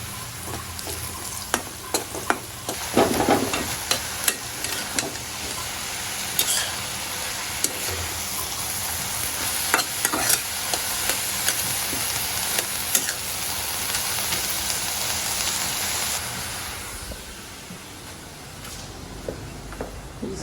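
Garlic and onion crackle in hot oil as a tempering for lentils and greens, with frequent spatula scrapes and taps over a continuous sizzle that eases off near the end, no voices heard.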